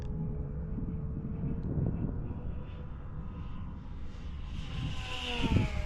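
A Havok RC airplane on a high-speed pass, its faint motor whine rising and growing louder toward the end, over light wind noise outdoors.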